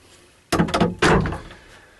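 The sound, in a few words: door opening in narrowboat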